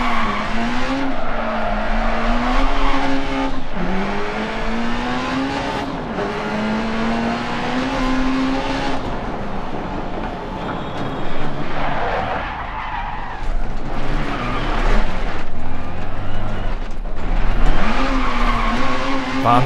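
A rally car in Dirt Rally slides and skids on a mountain stage, its engine revving and rising in pitch through gear changes while tires scrabble and squeal continuously up close.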